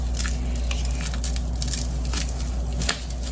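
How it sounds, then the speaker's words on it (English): Dirt poured into a sifter while sifting school soil for crystals, a continuous gritty patter and crackle of falling particles with scattered small crunches and a brief thump near the end, close and fairly loud. "We're just going to pour the dirt in the sifter like this"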